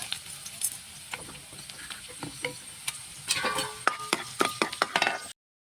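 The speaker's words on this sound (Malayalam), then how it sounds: "അപ്പോൾ എണ്ണ ചൂടായി അതിന് ഞാൻ ഉള്ളി ഇട്ടു അതിൽ തന്നെ കുറച്ച് ഉഴുതും പരിപ്പിട്ടു" Onion and urad dal frying in hot oil for a tempering, a soft sizzle with spoon scrapes that turns busier and more crackly near the end before cutting off abruptly.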